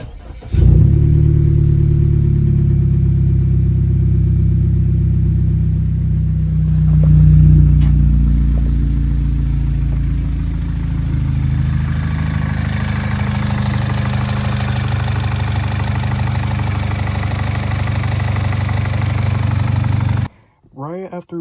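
An Audi 2.0T engine fitted with a larger S4/S5 throttle body starts and runs, a loud close steady idle with a brief rise in revs and constant low rumble for about twenty seconds before cutting off.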